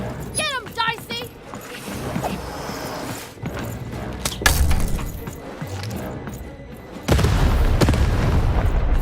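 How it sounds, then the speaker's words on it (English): A cannon fires in the video game Lost in Random, heavy booms with crashing, shattering impacts amid game effects, a loud blast near the middle and a sustained rumbling burst later, with voices talking over it. "Shoot the button to fire the cannon."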